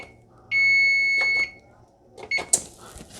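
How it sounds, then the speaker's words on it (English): A kitchen oven timer goes off with a long, piercing electronic beep close by, then a brief second chirp among light clattering handling noises. "timer's about to go off."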